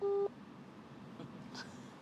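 A single short telephone line tone sounds at the start of a call to Indonesia, then gives way to quiet room noise with faint indistinct sounds.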